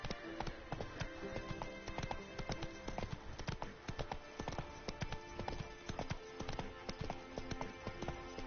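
Horse hooves clip-clop in Witcher 3 in a quick, steady rhythm of sharp, close taps that runs without a break, with faint background game ambience beneath.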